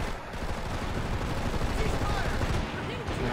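Rapid gunfire from a PlanetSide 2 firefight, a dense continuous clatter of shots and bursts that runs through the whole stretch with no pause, loud and busy.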